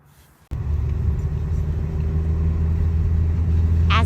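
A car engine drones steadily while driving uphill on a foggy road into the Smoky Mountains, a continuous low rumble that starts abruptly after a short quiet moment and holds close and even throughout.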